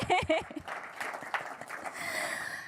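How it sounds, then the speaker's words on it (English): Audience at a live wearables pitch-off competition breaks into applause after voiced cheering at the start, the clapping building into a steady, moderately loud wash. "You're going to applaud now."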